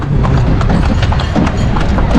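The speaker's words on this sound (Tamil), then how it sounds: "சும்மா கலர் கலராக போட்டு குதிரை வண்டியில் போயாச்சு." Horse hooves clip-clopping as a horse-drawn carriage moves near the Taj Mahal in Agra, with a quick, steady, close and loud rhythm throughout and no talk.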